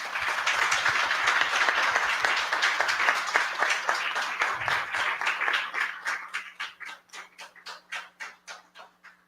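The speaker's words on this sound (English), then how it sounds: "a round of applause to all the mentors and students that made it that year possible" Applause at a foundation membership meeting starts as full, dense clapping from the audience, then thins out until a few lone claps ring out in a slow, even rhythm near the end.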